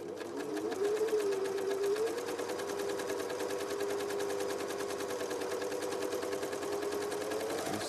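A sewing machine stitches a belt loop tape, running in a steady, fast mechanical rhythm with a continuous motor whine, close and moderately quiet, with no talking over it.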